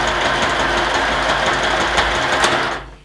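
A sewing machine stitching a raglan sleeve seam on a coat made from a tablecloth, running in a fast, steady, loud mechanical rattle close by, then slowing and stopping near the end.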